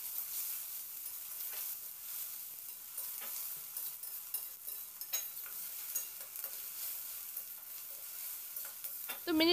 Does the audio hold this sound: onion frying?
yes